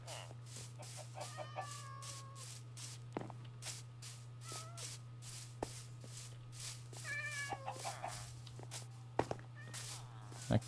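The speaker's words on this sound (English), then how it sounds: "That cat just fell in a hole." Meows from a cat in the Minecraft video game, together with clucking chickens, sound faintly and intermittently over a low steady hum and scattered game noises.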